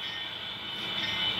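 A model train running along a street-running section of track on a GP Apex East layout, giving a steady, close rolling rumble with a bright hiss that stays even and swells slightly toward the end, no talk.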